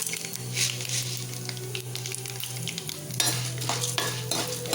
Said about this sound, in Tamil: எல்லாம் நல்லா பொன்னிறமாக செவந்து வரணும்.